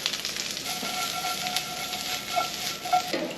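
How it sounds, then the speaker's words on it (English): Pepperoni slices fry in a pan with a steady close sizzle and crackle, small pops rising over the constant hiss. "All we're doing is just frying these pepperoni slices"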